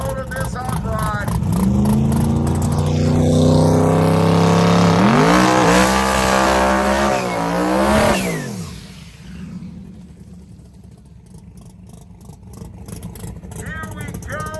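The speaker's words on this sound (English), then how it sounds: "Ladies and gentlemen, get a load of this hot rod." A hot rod drag car at Ubly Dragway revs hard in rising, stepped bursts, loud and close, then cuts off sharply and falls to quieter background noise, with someone talking over the engine.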